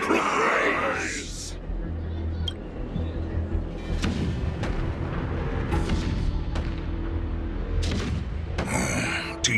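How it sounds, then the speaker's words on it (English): Deep booming blasts of cannon fire in the video game Honkai: Star Rail roll out one after another, with a low continuous rumble underneath and sharp cracks scattered throughout. "The rumble of the cannons."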